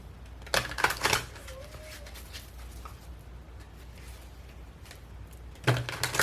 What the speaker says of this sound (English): I'll go ahead and just shuffle a couple times.